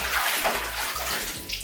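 LEGO BIONICLE Technic parts being drenched in water, heard as a steady close splashing, sloshing rush of water throughout, with no talking.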